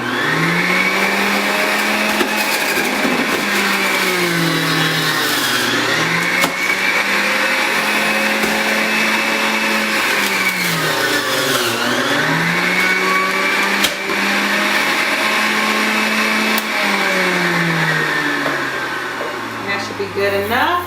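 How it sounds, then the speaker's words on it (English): A Hamilton Beach Big Mouth Pro juicer juicing apples, with a loud, continuous motor whine that dips and rises in pitch in repeated cycles as the fruit is pressed through, then slowly winds down at the end. "I'm going to go ahead and put the other apple in and just make it a tad bit sweeter"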